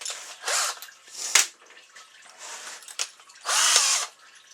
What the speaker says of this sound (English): I'm going to take and drill that out.